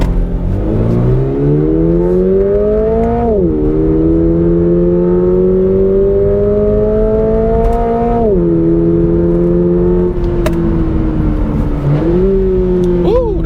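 A 2022 Toyota GR86 in track mode launches from a standstill, its engine revving loud and close in rising harmonic sweeps, dropping briefly at each upshift near 3.5, 8.5 and 12 seconds before climbing again.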